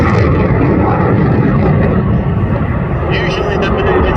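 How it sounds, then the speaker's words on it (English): An RAF Eurofighter Typhoon jet flies an airshow display, producing a loud, steady, broad engine roar that fills the whole stretch, with a commentator speaking over it. "So here's Tom pushing the aircraft round, hanging in his straps"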